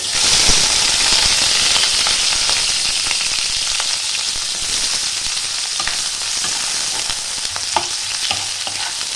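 Two large chopped onions frying in a small amount of hot oil, a loud, close, crackling sizzle with frequent pops and stirring scrapes throughout.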